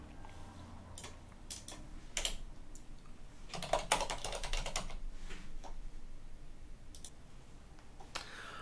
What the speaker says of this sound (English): Now let me go and type in my password on the other screen.